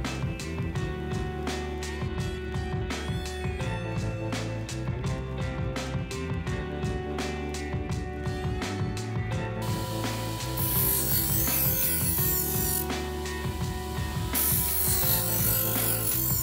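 An ADEMS Pro sharpening machine grinds a knife blade, giving a steady, loud, continuous mechanical whir with rhythmic scraping. Partway through, a brighter, harsher grinding tone comes in, drops out briefly and then returns.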